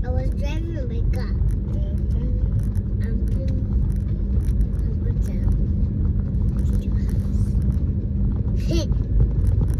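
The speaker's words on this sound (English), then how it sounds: "I was driving my car." A car drives along with a constant low rumble of engine and road noise, while people talk over it throughout.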